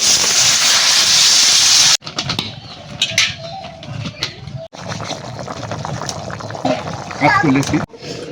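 Water poured into a hot pan of potato and pea curry gives a loud steady hiss for the first two seconds, followed by quieter kitchen clatter and soft bubbling.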